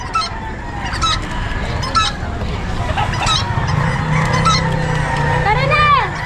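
Chickens and roosters at a crowded pet market in Bocaue cluck and honk in bursts, with a crow rising near the end, all over a busy background of crowd noise.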